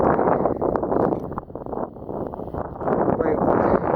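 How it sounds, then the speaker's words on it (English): Wind gusting on an open ridge above the River Nidd, heavy buffeting rumble and roar against the microphone, loud and continuous with a brief lull, a voice partly buried underneath. "you can't hear me over the wind"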